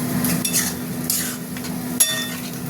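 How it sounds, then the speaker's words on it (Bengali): Spices with salt and turmeric powder being sautéed in a pan for a soybean and potato curry, with soft sizzling, scraping stirs and occasional metallic clinks, one sharp clink near the end, no talking. "মশলাটা এবার কষা হবে"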